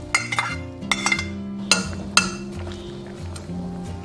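A metal lid set onto a pot of braised pork with dried mustard greens gives several close, bright clinks and clatters in the first half, then settles under soft background music.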